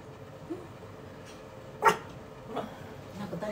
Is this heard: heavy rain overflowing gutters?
no